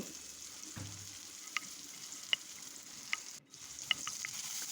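Onions fry with ginger and garlic paste and salt in a pan, a steady soft sizzle close by, punctuated by a few light scraping clicks from stirring, with no talking.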